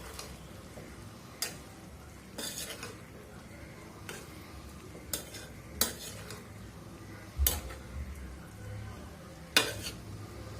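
Two eggplants added to a pan of fried fish-roe masala and stirred, with a spatula scraping and knocking against the pan in irregular, fairly distinct strokes over a low, steady background frying noise; no talking.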